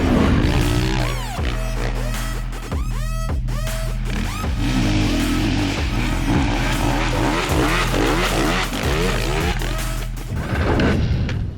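New Honda CRF 450 dirt bike ridden hard on a supercross-style track, engine revving and dropping in rapid repeated bursts with gear shifts and throttle blips, loud and close throughout.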